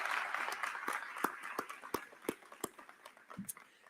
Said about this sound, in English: How about another round of applause for that presentation?